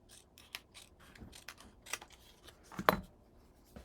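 Scissors snipping white paper for a winter mini album craft, a series of quick, close, crisp cuts and rustles, the last snip sharpest and loudest, with no talking.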